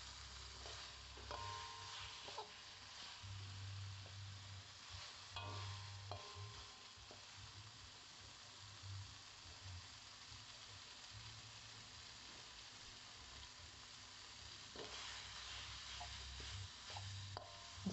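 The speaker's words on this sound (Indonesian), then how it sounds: "Bumbunya kita tumis." Spice paste sautéing in a pan for a coconut-milk bamboo shoot dish, a faint, steady sizzle with soft stirring scrapes and occasional brief clatters.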